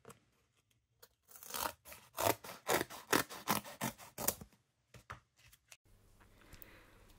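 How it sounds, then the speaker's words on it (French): Large scissors cutting paper strips, a run of rapid close crisp snips and rasping slices in quick succession, then a few scattered cuts and rustles before quiet. "Je cherche mes grands ciseaux."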